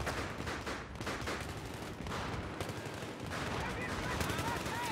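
Shotgun loaded with explosive rounds firing in Battlefield 3 on the Metro map, dense loud blasts and booming impacts overlapping in a continuous barrage of gunfire.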